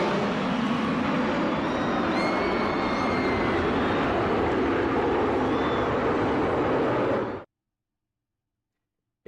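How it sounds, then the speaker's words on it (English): An aircraft flyover at Talladega in a racing video game makes a loud, sustained broadband engine roar with a faint whine on top that holds steady for about seven seconds and then cuts off abruptly into silence. "as the flyover finishes"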